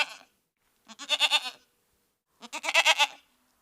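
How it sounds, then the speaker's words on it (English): A goat bleats twice, each a loud, wavering, nasal call about half a second long, close by and alone with silence between. "A goat bleats."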